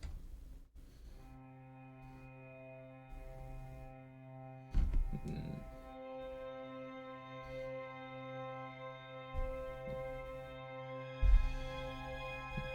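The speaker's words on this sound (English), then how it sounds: "like a string drone, and that would sound like this." Synthesized string drone in a music production project: quiet, sustained harmonic tones hold steady for the whole stretch, broken by a few soft low thumps.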